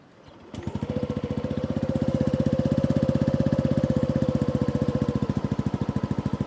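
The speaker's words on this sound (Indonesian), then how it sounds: "Buat yang penasaran suara si WRX Silent ini kayak gimana, apakah benar-benar nggak mengganggu tetangga," Yamaha NMAX turbo scooter fitted with a WRX Silent aftermarket exhaust starts and settles into a steady, even idle, a close, fairly subdued throbbing putter that runs without a break.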